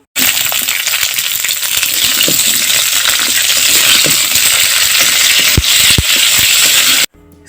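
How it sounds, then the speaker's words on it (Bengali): Onion and garlic with panch phoron stirred in a hot pan for a bean and potato bhaji, a steady loud hissing sizzle throughout with scattered scraping clicks of the spatula, cutting off abruptly near the end. "পাঁচফোড়ন দিয়ে আমি পেঁয়াজ রসুনগুলো কিছুক্ষণ নেড়ে নিব"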